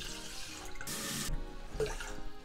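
Water poured into a pot of rinsed rice, one cup of rice to about one and a fifth cups of water, for a Japanese roast beef rice bowl; a brief splashing burst stands out over faint kitchen noise.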